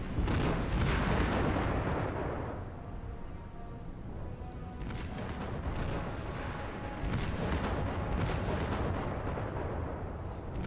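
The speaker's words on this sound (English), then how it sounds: "Anti-aircraft fire is now seriously opening up." Anti-aircraft fire in a carrier combat strategy game booms and rumbles in dense, overlapping bursts, with sharper cracks and pops layered over a heavy, continuous low roar.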